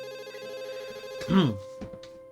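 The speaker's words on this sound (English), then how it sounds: "A soft ringing gives us pause" A soft, steady phone ring in the Katawa Shoujo visual novel, a sustained electronic tone that repeats quietly, with a brief louder swell partway through and some background music underneath.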